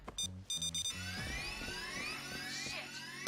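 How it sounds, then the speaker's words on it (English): An alarm sounds in the heist video game Payday 3, starting with a few loud pulsing beeps and then giving way to a steady rising electronic whine under faint background noise. "that's the alarm"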